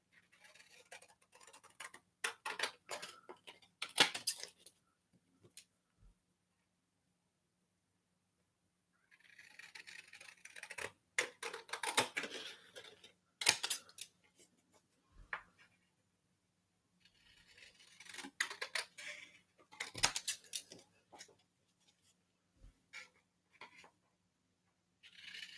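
Paper being cut down for a mixed media scrapbook layout, with bursts of quiet, close snipping and rustling separated by pauses.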